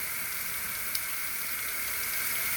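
An outdoor cleaner hose-end sprayer runs in rinse mode, giving a steady, dense hiss of water spray that stays even throughout, fairly close, with no talking.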